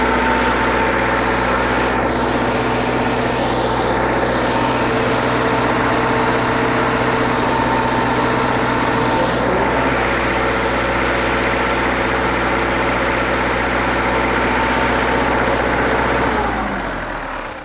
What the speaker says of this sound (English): Let your generator run for a minute